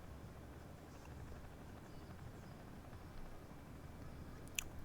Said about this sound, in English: Sounds like there's a helicopter inbound.